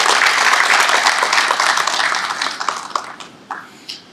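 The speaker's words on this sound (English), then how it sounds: "Can we give her another round of applause?" An audience at a public health strategy launch event in Guyana applauds, with dense clapping that is full at first, then thins and tapers into a few scattered claps toward the end.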